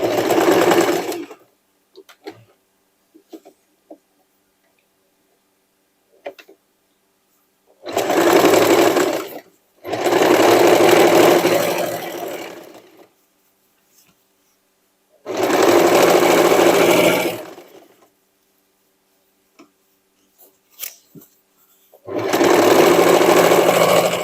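A sewing machine stitches through sweatshirt fabric and denim scraps for a dress in bursts of steady rapid whirring, four long runs separated by quiet pauses with faint handling clicks, close and loud.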